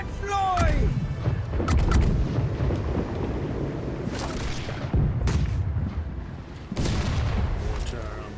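Pirate ship cannons and a mortar firing in a naval video game battle, heavy booms and blasts over a constant rumbling din, with voices shouting over the fighting.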